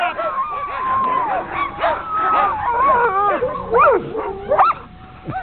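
Several sled dogs in Vail, Colorado bark, yelp and howl excitedly together during a sled ride, a loud, overlapping chorus close by with rising and falling cries.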